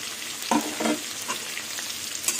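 Onions and potatoes sizzle in a hot oiled pan. A steady frying hiss runs underneath a few louder stirring scrapes and spatters near the start.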